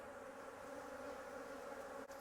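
Agitated honeybees from a rescued, once-abandoned colony buzz steadily around an open hive, a dense continuous drone held close and fairly loud throughout, with no voices.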